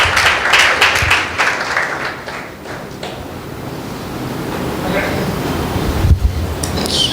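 A church congregation claps for Brother Kumar Tolani, a dense crackle of applause that is loudest at first and then thins into a softer, noisy wash.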